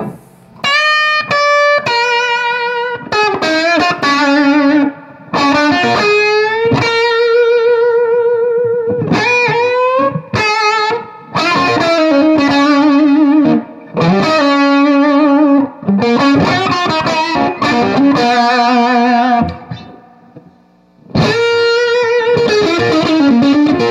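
Electric guitar played through a Danelectro Daddy-O overdrive pedal with the overdrive boosted, loud and continuous: chords and riffs ring with sustained, gritty distortion, broken by a few brief pauses, no talking.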